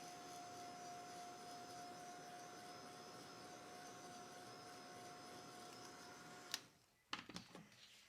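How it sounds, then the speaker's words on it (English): A heat gun blows steadily with an even, whooshing roar while drying craft paint, then switches off near the end, followed by a few soft knocks and handling sounds. "So I'm going to dry it with my heat gun actually."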